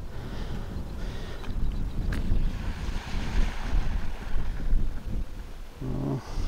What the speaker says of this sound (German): hier oben ist es ziemlich windig